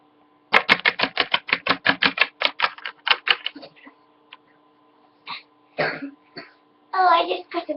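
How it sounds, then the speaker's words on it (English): A burst of rapid, regular clicking taps opens, followed by a few separate short coughs from a person with a cold, close to the microphone in a quiet room. "Oh, I just got a bit of a cough."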